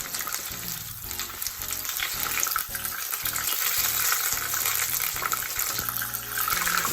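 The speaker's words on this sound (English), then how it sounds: "They can start frying up and crisping up nicely." Steady, dense sizzling of banana blossom pieces frying in a pan, loud and continuous throughout, with a faint watery hiss and occasional clinks underneath.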